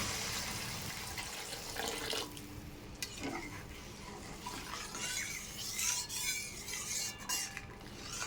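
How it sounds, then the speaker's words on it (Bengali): Hot water is poured into cooking masala for a chitol fish muitha curry, giving a soft, faint splashing pour with light clinks and stirring nearby, with no talking. "এবার পরিমাণ মতো গরম জল দিয়ে দেবো।"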